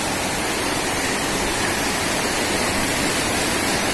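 Leke-Leke waterfall in Tabanan, Bali, roaring as a steady, dense broadband rush of falling water, loud and close, unbroken throughout.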